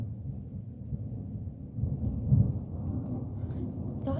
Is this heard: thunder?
yes